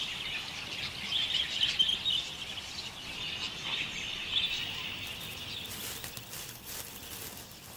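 Budgerigars chirping as a breeding pair in an Australian wild setting, soft twittering calls running steadily throughout at a moderate distance, with no voices present.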